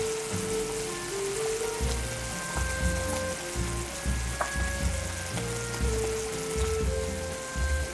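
Canned tuna drops into bubbling, boiling sauce for a quick mapo tofu, giving a steady close sizzle and crackle with soft bubbling pops and a faint tonal hum underneath, no voices.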